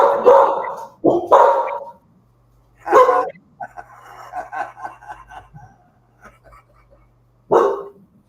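A dog barks several times in sharp bursts, fairly close, with a low steady hum underneath and a few quieter yips between the louder barks.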